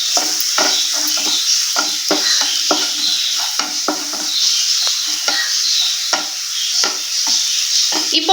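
Onions, curry leaves and slit green chillies are sautéed in a pan with a bright, constant sizzle and repeated close scrapes and taps as a spoon stirs them.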